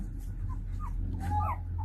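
A pet dog whimpers softly a few times, faint thin whines over a steady low indoor hum, with no talking.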